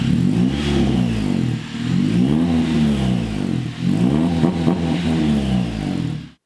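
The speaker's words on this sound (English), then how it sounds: "But I'll actually rev the car and show you guys what it sounds like." Close, loud revving of a car engine fitted with stage 2 power upgrades, two long throttle blips climbing and falling in pitch over a rumbling idle, with no talking.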